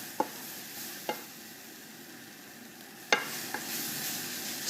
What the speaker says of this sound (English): So give it a stir and get all those flavours working together now.